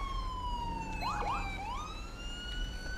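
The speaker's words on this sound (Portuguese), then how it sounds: "Esse barulho ali é da rádio patrulha," A police patrol car siren in the GTA 5 video game wails with sliding, overlapping tones over a low rumble of traffic and engine noise, heard without talk.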